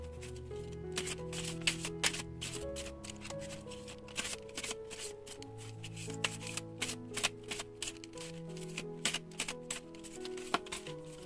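Tarot cards are shuffled, handled and laid out in crisp, rapid papery riffles and snaps that repeat throughout, set over soft, steady background music with no talking.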